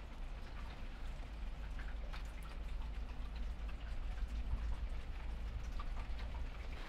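Steady rain comes down over a flower garden, an even hiss of countless drops with scattered close plinks on hard surfaces, low and constant throughout, and nobody talking.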